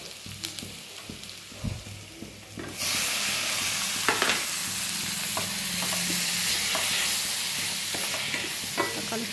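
Chopped tomatoes sizzle in a hot pan for egg gravy, a soft steady frying hiss that swells once they hit the oil, with occasional light scrapes and taps of a spoon stirring.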